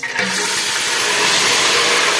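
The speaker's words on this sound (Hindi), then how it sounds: "अब हम इसके अंदर आहिस्ता आहिस्ता जो है इसमें पानी ऐड करना स्टार्ट करते हैं" Chicken stock being poured slowly into a cooking pot for chicken mandi rice, a steady continuous watery hiss that starts abruptly and runs unbroken at close range.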